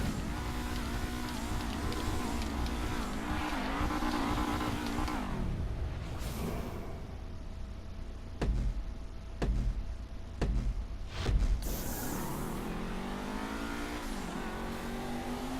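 A Dewbauchee Seven 70 sports car in GTA V revs and accelerates with a rising engine whine and gear shifts, then sharp bursts and a throttle drop before the engine climbs again, loud and close throughout.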